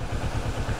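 A motorcycle engine rumbles steadily and fairly close, a short low pulsing drone riding along a road in Analândia, Brazil.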